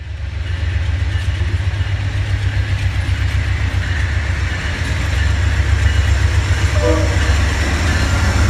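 An Amtrak passenger train runs east out of Roseville, California, heard from on board: a loud, steady low rumble and rolling hum, with a faint horn tone late on.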